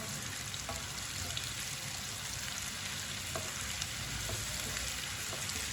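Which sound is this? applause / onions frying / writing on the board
onions frying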